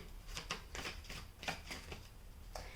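Tarot cards shuffled by hand for a pick-a-card reading, giving a string of soft, quick riffling bursts at a steady rhythm, close and quiet with no talk.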